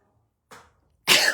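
A single sharp sneeze bursts out loud and close after a brief softer intake or sniff, with silence between them.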